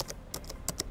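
Typing a text prompt for an AI image generator on a computer keyboard, a few quick close key clicks in short bursts, no talking.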